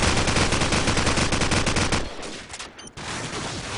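Wall bang shots in a competitive shooter match, a loud rapid string of automatic gunfire that cuts off, a brief lull, then firing resumes.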